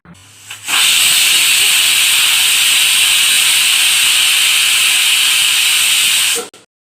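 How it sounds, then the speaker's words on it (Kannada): A pressure cooker whistle blasts steam while chicken chops cook inside, a loud, steady high hiss that holds for about six seconds after a brief onset, then cuts off sharply. "ಒಂದೇ ಒಂದು ವಿಷಲ್ ಹಾಕ್ಸಿದ್ರೆ"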